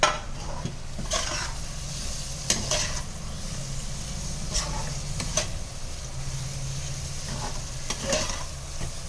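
Food is stirred and sautéed in a pan with steady sizzling and frying, while a spoon scrapes and clinks against the pan in repeated strokes, fairly close and with no talk.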